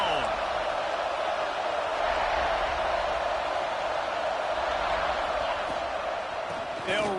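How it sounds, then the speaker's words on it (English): A football stadium crowd roars steadily and loudly throughout, a dense wash of many voices with no single voice standing out. "This crowd ready to make its presence known."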